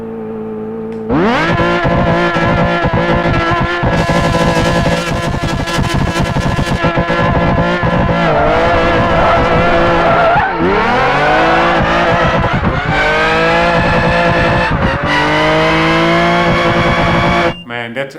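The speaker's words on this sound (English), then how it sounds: "That rev limiter sound is pretty epic" A race car engine in Project Gotham Racing 4 revs hard and repeatedly bounces off the rev limiter, with rising and falling pitch sweeps and tire squeal over about eighteen seconds, loud and close, with speech underneath.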